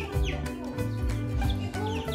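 Chickens cluck close by in a steady, overlapping chatter of short, throaty calls, loud and continuous for the whole moment.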